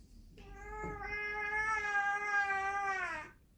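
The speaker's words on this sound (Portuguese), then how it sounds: "Vocês estão ouvindo isso? Minha gata aqui, gente." A female cat lets out a single long, drawn-out meow close by, loud and wavering for about three seconds over a quiet room in a sewing workspace.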